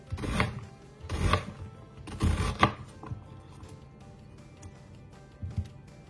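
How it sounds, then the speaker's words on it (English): A knife chopping through an onion on a cutting board for a Mediterranean tuna salad: three loud, close bursts of rapid chopping, then a pause and a single softer cut near the end, with no talk. "We're going to turn our onion and chop the other way."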